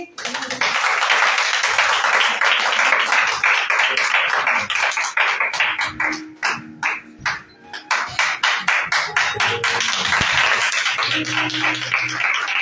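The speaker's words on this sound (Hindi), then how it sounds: "आइए हम तालियों के साथ पवित्र आत्मा और ब्रदर प्रिंस का स्वागत करेंगे" A church congregation at a Hindi-language Christian worship service claps in a dense, sustained burst to welcome a preacher to the stage, loud and close throughout, thinning into scattered individual claps partway before swelling again, with cheering voices mixed in.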